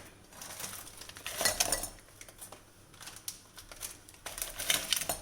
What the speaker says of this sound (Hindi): जार के अंदर मैं अपने ये 5 पैकेट बिस्किट के डालूंगी।